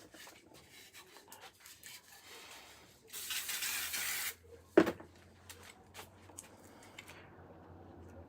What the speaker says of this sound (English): So again, a little bit of spray glue for speed.